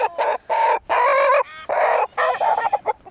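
Bresse chickens on a farm cluck and squawk loudly and close by in a rapid string of calls, with no voices.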